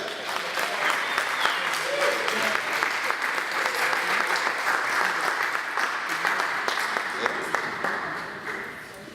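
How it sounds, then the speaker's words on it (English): A large audience at a Startup Grind event in Cape Town applauds for the two guests, a loud, dense wash of clapping that holds steady for the whole stretch and fades a little at the end. "give a warm, loud round of applause for Nox and Yanda"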